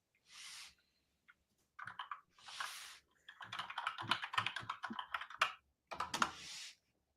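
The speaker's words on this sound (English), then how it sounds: "Can you hear me typing?" Clacky keystrokes on a mechanical keyboard come in short irregular bursts separated by brief silences, close and crisp, with no talking.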